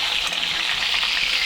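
A Katla fish head sizzles in hot oil with a steady, bright hiss and faint crackle, close and fairly quiet.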